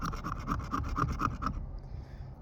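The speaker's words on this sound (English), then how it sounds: "I'm going to start scraping it into this bark." The 90-degree spine of a saw scrapes bark into fine tinder outdoors, producing a series of about seven rhythmic, raspy strokes, close and distinct, before stopping into quiet.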